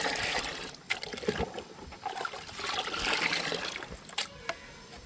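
Turmeric, chili powder and asafoetida are stirred into water to make a mealybug spray, giving close swishing and trickling liquid sounds with a few sharp clicks, no talking.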